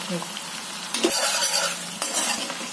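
Garlic and green chillies fry in hot oil in a pan, a steady close sizzle broken by a few scraping stirs and light clinks of a utensil against the metal.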